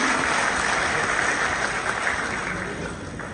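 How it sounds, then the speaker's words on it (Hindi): Loud, dense applause from the crowd at the Van Mahotsav 2025 ceremony in Jammu, a continuous wall of clapping that stays strong throughout and fades only slightly at the end. "आप सबसे अनुरोध है जोरदार तालियां"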